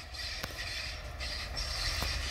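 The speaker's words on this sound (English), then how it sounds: "here comes the choo-choo train" A steam locomotive dressed as Thomas the Tank Engine on the Bo'ness heritage railway rumbles past with a steady low mechanical roar and a couple of sharp clanks, continuous and fairly close, with no talking.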